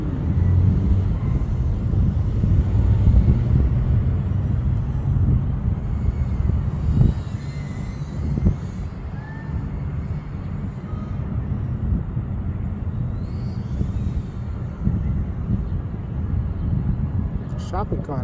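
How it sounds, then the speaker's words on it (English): Gusty wind buffets the microphone outdoors in a park, a steady, loud, low roar that never lets up across the whole stretch, with a few sharper gust thumps along the way. "and it's all windy and everything."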